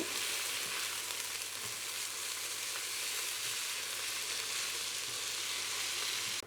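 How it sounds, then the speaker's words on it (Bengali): Rice is being fried in a pan for white pulao. The sizzle is even and hissing, and a few soft stirring knocks recur now and then. It is fairly quiet and steady, with no voices. "চালটাকে অনেক ভালোভাবে ঝরঝরা করে ভাজে নিতে হবে"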